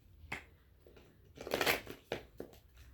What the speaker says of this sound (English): I'm just gonna shuffle 21 times